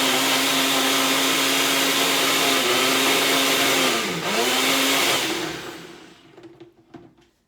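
A Ninja Bullet blender whirs loudly and steadily as it blends a protein smoothie, its motor pitch dipping briefly mid-run under load before winding down and stopping, leaving a few faint knocks.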